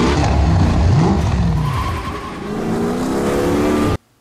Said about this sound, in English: Pretty cool car.